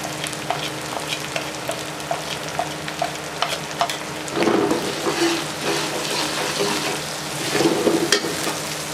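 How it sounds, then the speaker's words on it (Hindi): Green chillies fry in hot oil in a pan while cooking aloo lobia masala, giving a steady, close crackling sizzle with light stirring. Two louder surges of hissing come partway through. "हरी मिर्चें फ्राई हो चुकी हैं।"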